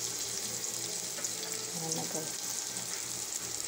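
Chopped onion frying in a little cooking oil while mussels are being cooked, giving a steady broadband sizzle with faint clinks and a short spoken word over it.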